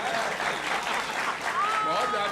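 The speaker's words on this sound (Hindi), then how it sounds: "थोड़ा तालियों से इनको बताइए" Audience applause at a Hindi political poetry show on Congress and BJP, a dense steady patter under a loud crowd and speech, with a rising tonal whistle partway through.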